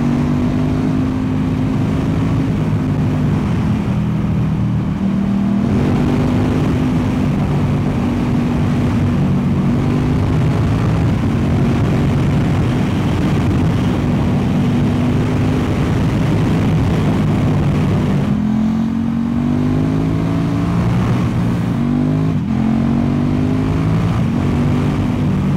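KTM 1290 Super Duke R motorcycle engine heard while riding through the city, a loud continuous roar with rising and falling pitch as the rider accelerates and shifts, over rushing wind.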